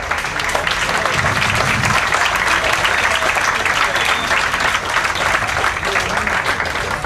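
Banquet audience applauding steadily, a dense continuous patter of many hands clapping at close range for the full stretch, with a faint murmur of voices beneath.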